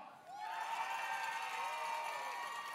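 A large arena crowd at a FIRST robotics championship in Houston erupts into loud, sustained cheering and shouting for their state, a dense roar with whoops that swells quickly and holds steady.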